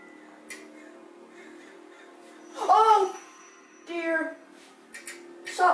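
A bird in a VR game gives a few short, harsh cawing calls, one burst near the middle and more toward the end, over a quiet, steady game hum with no talk.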